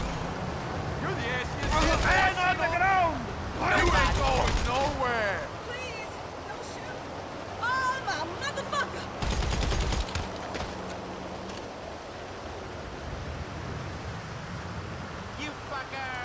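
AP pistol in GTA 5 Online fires in several loud bursts of rapid automatic shots, spaced a few seconds apart, over low ambient rumble with a voice speaking between them.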